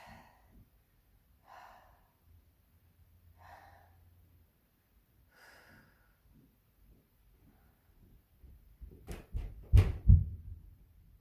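Breathing during a reformer-style stretching workout: several soft, evenly spaced breaths close to the microphone, followed near the end by louder rustling and thumps of movement.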